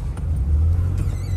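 A car engine hums low and steady as a learner driver gently presses the accelerator, a brief mild swell in the rumble with no sharp revving.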